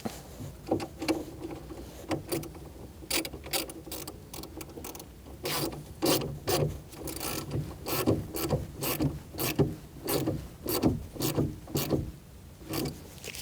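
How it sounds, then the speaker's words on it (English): Negative battery terminal being tightened on a Chevrolet Cruze, heard as a fairly close, steady series of rapid ratcheting clicks in short bursts. "We're going to put our negative battery terminal on, slide it on, push it down, and you're going to tighten it up."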